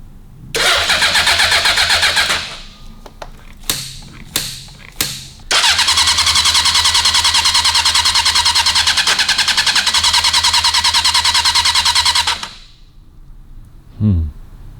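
A long-unused 1976 Honda CB750F1 motorcycle engine roars briefly, sputters through several short cranking bursts, then catches and runs loud and steady for several seconds before cutting out.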